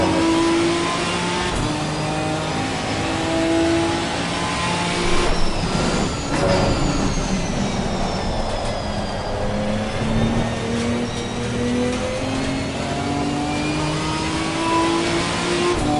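A Ginetta GT4 race car in Assetto Corsa Competizione revs high through its gears, a loud, steady engine drone rising and falling with each shift and held near the top of the rev range.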